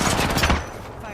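Automatic weapon fire in the video game Apex Legends, a short loud burst of rapid shots up close that cuts off after about half a second.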